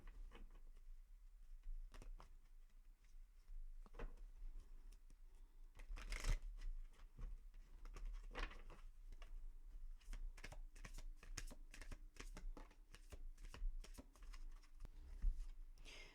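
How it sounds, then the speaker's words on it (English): Tarot or oracle cards being shuffled by hand, a steady run of soft papery clicks and riffles with a few sharper snaps, fairly quiet and close with no voices. "That was an awful shuffle."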